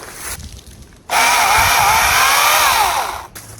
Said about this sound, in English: Today, I'm learning how to use a chainsaw